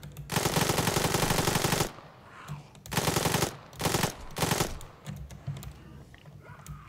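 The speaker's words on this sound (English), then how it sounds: "I need to just attempt to use my M4." An M4 rifle fires loud sustained automatic bursts in a zombie video game: one long burst, then two shorter ones, with quieter gaps and softer background noise between them.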